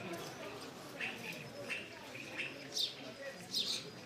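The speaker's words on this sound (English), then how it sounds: "We even have a few birds in here, so we do that in from the rain." A few birds shelter from the rain inside a stadium stand at an amateur football cup final, giving short, faint chirps and tweets scattered over a low crowd murmur and distant voices.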